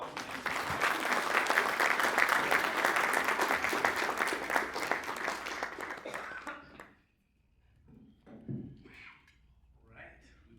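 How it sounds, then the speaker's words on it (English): An audience at a political event in Nashville gives a loud round of applause that holds steady for several seconds, then fades out, leaving a few faint sounds and quiet talk. "Everyone, please give a round of applause."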